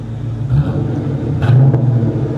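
A deep, rumbling V8 exhaust on a 1997 Ford Mustang GT with an SLP Loudmouth performance muffler, BBK X-pipe and K&N cold air intake idles close by, then revs up briefly twice with a throaty growl before settling back.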